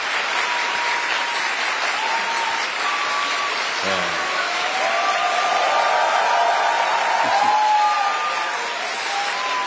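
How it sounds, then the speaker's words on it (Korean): An assembled crowd of new civil servants applauds as the president is welcomed onto a lecture stage, steady loud clapping that swells toward the end, with a brief whoop and faint voices in the hall. "우리 대통령님 나오실 때 큰 박수로 환영해 주시기 바랍니다"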